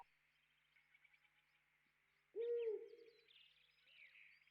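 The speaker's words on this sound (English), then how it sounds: "Sometimes birds come when I play my flute." A bird in the farming game Harvest Moon: Save the Homeland gives a single clear cooing call against quiet background music, followed by softer trailing chirps.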